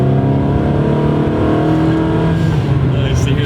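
Ferrari 360 with a Tubi exhaust, its engine loud and close with a sustained deep rumble and a slight pitch rise while accelerating, and a voice speaking under the engine noise.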